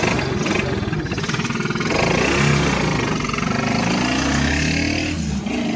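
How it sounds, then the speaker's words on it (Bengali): A 100cc engine on a Mishuk three-wheeler running up close, a loud, steady, rattling putter with a low throb and no notable revving. "100 সিসির ইঞ্জিন, সেলফ কিক 2টাতে স্টার্ট হবে এবং রানিং,"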